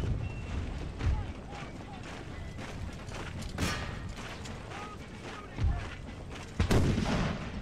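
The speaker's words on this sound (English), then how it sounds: "all of my howitzers are gonna move up and we're going to pound that Gatling gun." Howitzer artillery in a Napoleonic-era battle game, Empire: Total War, booming repeatedly as muffled distant blasts with a couple of louder, sharper shots near the end over a windy, rumbling battlefield bed.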